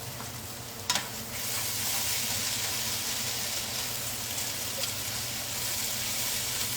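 Salmon sizzles steadily in a hot pan, a continuous close frying hiss with a brief clatter near the start and no voices.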